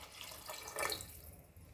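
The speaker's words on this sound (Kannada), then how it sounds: "ಈಗ 4 ಲೋಟದಷ್ಟು ನೀರನ್ನು ಹಾಕೊತಾ ಇದ್ದೇನೆ." Water poured into a pot of rice while cooking vegetable pulao: a steady, close rush of liquid running for about two seconds, a little louder near the middle, with no talking.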